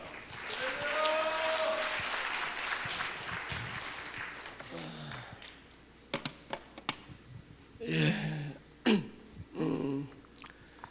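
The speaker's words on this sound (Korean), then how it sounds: "우리 한번 강사님 나오실 때 크게 박수로 환영하겠습니다." A church seminar congregation claps to welcome a pastor to the stage, a moderate round of applause that fades after about five seconds, followed by scattered coughs, throat clearing and a few short vocal sounds.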